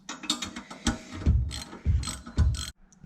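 A ratchet wrench with a 13 mm socket tightening studs on a Mini Cooper R56 downpipe install, giving several rapid bursts of clicking pawl ratcheting with short pauses between strokes, close and clear.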